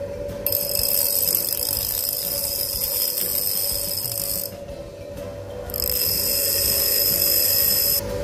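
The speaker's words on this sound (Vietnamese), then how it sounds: "để mình thử cái con Hitachi này nha, 400W nó chạy sao đây" A Hitachi 400W bench grinder fitted with a 205 stone runs with a steady, fairly quiet motor whine and high hiss. The hiss drops away briefly partway through, then returns at full level.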